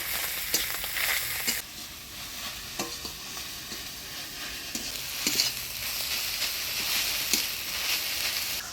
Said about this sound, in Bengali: পাট শাকের সাথে ভালো করে নাড়াচাড়া করে নেব